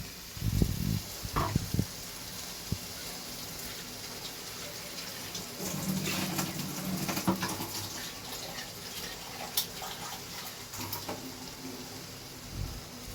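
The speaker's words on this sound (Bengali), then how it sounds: "পরিমাণ মতো জলটাও দিয়ে দিলাম।" Water poured into a pan of potatoes and ridge gourd with prawns and poppy seed paste, a steady splashing pour with brief louder gushes, close and alone.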